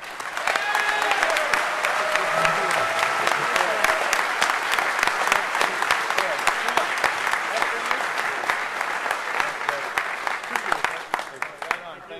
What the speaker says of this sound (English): Let's give them an incredible round of applause.